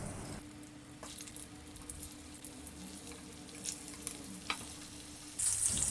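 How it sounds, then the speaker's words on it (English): Potatoes pan frying in a small amount of oil for dum aloo, a steady close sizzle and crackle with occasional stirring clinks, continuous and moderately loud, with no one speaking. "I choose to pan fry the potatoes because it is more practical to do it at home"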